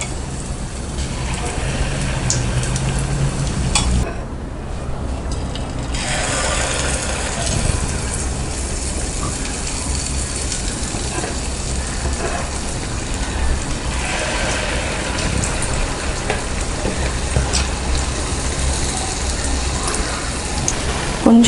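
Kandarappam batter fries in oil over a low flame, making a steady, dense bubbling sizzle that runs continuously at moderate loudness with faint clinks.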